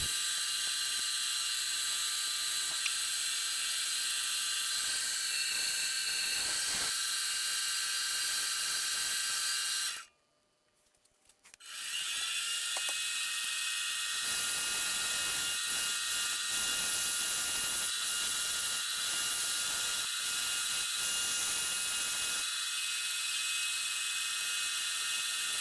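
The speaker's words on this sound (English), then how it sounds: "Here I took a file and I'm kind of working on the bevels a little bit to smooth them out" A hand file rasps steadily over the bevels of a hex nut ring, a continuous bright scraping that runs alone, stops for about a second midway, then resumes.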